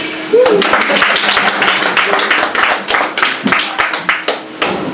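Guests at a traditional dowry wedding for Elisabeth and Pierre clap for the newlyweds, a close, lively patter of hand claps that turns into rhythmic, evenly spaced clapping, with voices talking over it.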